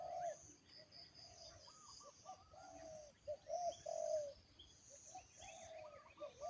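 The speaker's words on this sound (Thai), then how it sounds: "เสียงเจ้าพลอยคูใหญ่เลยครับทางนู้นนะครับ" Doves coo in soft, repeated low phrases, with bright bird chirps and a steady insect buzz in the background.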